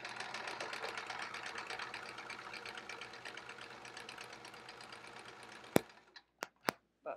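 A sewing machine free-motion quilts a bulky baby quilt with couched stars, its needle chattering in a fast, even rhythm for several seconds before stopping abruptly, followed by a few sharp clicks.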